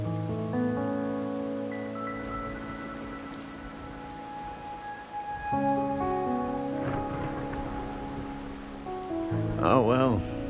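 Steady rain falls at night in the Wuthering Waves game, a soft, constant hiss sitting beneath sustained musical tones for the whole stretch.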